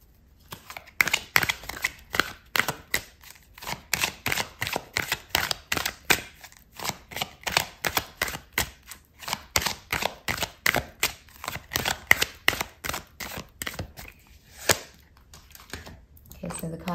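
Tarot cards are shuffled and pulled from a deck during a reading. A steady run of crisp riffling clicks and flicks sounds close and fairly loud, with no one talking.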